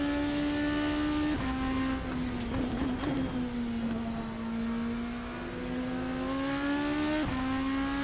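A Super Formula race car in the racing game Assetto Corsa revs hard with a loud, steady, high engine whine, broken by quick gear shifts and a brief swoop in pitch.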